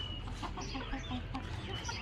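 Farm chickens cluck close by in short, repeated calls over a low, steady background.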